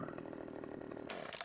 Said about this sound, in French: Donc j'ai la tronçonneuse Husqvarna, celle que je préfère des trois